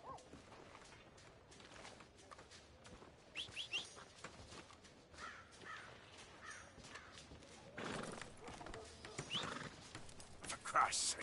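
A horse neighs and its hooves clip-clop, faint and distant against a noisy, rustling background, with indistinct voices mixed in.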